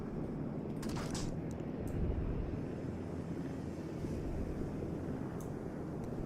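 Carrier aircraft from the Langley in World of Warships droning overhead, a steady, low engine rumble with airy whoosh, joined by a few brief sharp clicks from the game interface.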